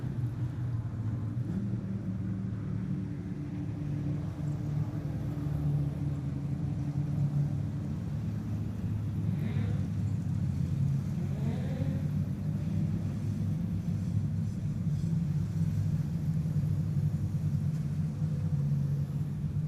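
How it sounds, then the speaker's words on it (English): Low, steady engine rumble of production sedan race cars idling and cruising at Kingaroy Speedway, a constant droning hum with some distant mechanical tones rising midway. "Onto the infield comes the 4 car of Trent Grosley."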